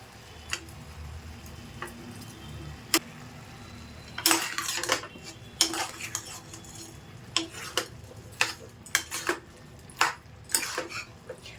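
Ginger garlic paste stirred in a pan at home, with a spoon scraping and tapping the metal in irregular clinks and a faint sizzle underneath, close by with no voices.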